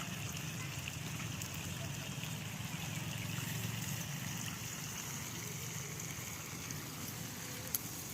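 Water poured into a pot of chicken curry cooked without ginger, garlic or onion, giving a steady, continuous trickling and sizzling wash that holds at an even level throughout, with a brief clink near the end.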